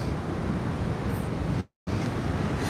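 Strong wind on the coast near Cala Estancia in Majorca, a loud, rumbling buffeting roar across the microphone, dropping to a brief silent gap before resuming, with no talk.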